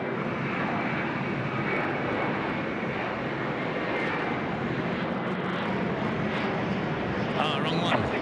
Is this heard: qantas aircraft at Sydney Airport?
yes